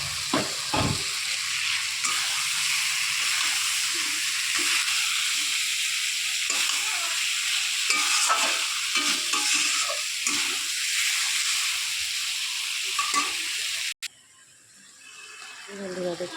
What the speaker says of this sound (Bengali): মশলা কষানোর পর এই যে ডিম আলুগুলো এর মধ্যে দিয়ে দেবো, দিয়ে ভালো করে এটাকে কষাবো।